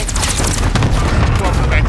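Dense, continuous gunfire in the video game Warzone, rapid overlapping bursts and booms packed tightly together, loud and close for the whole short stretch, with voices mixed in under the shooting.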